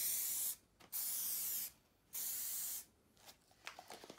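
Bursts of aerosol spray paint laid on a rocker cover in thicker second-coat passes, three long hissing blasts with short gaps, then a few faint clicks and rattles.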